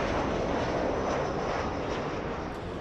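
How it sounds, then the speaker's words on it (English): A Delta Airbus A350 airliner bound for Shanghai, heard at Los Angeles International Airport as a steady, fairly loud broadband jet roar that holds unchanged throughout, with no other sounds over it. "All right, we have a big A350. This one flying to Shanghai, China."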